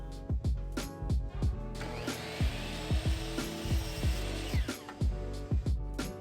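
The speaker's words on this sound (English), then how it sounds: "I decided to set up a stop block to make consistent, repeatable cuts." A saw cuts plywood strips to length against a stop block, a whining cut swelling in the middle amid repeated knocks and clatters of wood being positioned, close and fairly quiet without speech.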